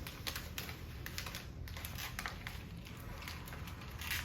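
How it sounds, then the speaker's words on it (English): Scrap paper crinkled slowly by hand, a steady run of soft crackles and rustles close up, with no voices. "So if you have a piece of scrap paper, just begin to crinkle it slowly as you take deep breaths in."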